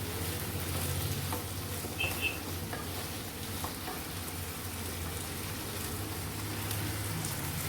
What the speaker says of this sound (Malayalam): ബീട്രൂട്ടും ഉരുളക്കിഴങ്ങും ഒന്നും കൂടി മിക്സ് ചെയ്ത് കൊടുക്കാം. വെളിച്ചെണ്ണയിൽ ഫ്രൈ ചെയ്ത് വേവിപ്പിച്ചെടുക്കാം.